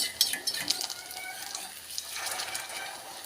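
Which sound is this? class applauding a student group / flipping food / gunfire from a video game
flipping food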